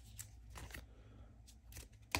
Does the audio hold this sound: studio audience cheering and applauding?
no